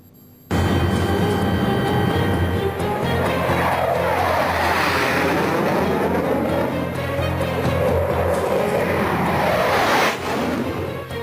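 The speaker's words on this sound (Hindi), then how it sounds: "इसी रण क्षेत्र के ले एयरबेस से एयरफोर्स के सूरमाओं ने MiG-29 ग्लोब मास्टर और सुखोई के साथ अभ्यास किया।" A military jet such as a MiG-29, Sukhoi or Globemaster at Leh airbase, a loud sustained roar that swells and shifts in pitch as the aircraft passes close by, with no voices.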